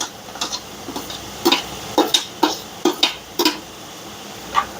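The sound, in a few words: tomatoes added and stirred into frying onions in oil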